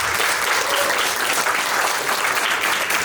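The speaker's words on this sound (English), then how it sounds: "Let's give a round of applause to Harmony Korine." Sustained, dense applause from a large audience greeting filmmaker Harmony Korine at a talk, steady and loud throughout with no voices over it.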